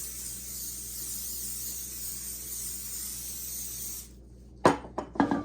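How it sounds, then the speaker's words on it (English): A can of cooking spray hisses continuously into a bundt pan for about four seconds, close and steady, then stops and a few handling knocks and clatters follow. "I'm going to spray a bundt pan."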